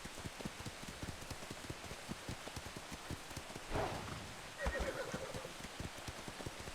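Horse in the DarksideRP role-play game gives a short whinny over steady, rapid hoofbeats, with a second neigh-like call shortly after, all under a constant rain-like wash.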